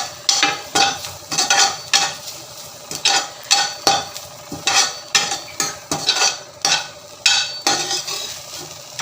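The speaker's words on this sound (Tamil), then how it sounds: "புதினாவும் கொத்தமல்லியும் கொஞ்சம் வதக்கிக்கலாம்" Mint and coriander leaves being sautéed in a pan, with a rhythmic series of stirring scrapes and taps repeating about once a second over a soft sizzle, close and steady.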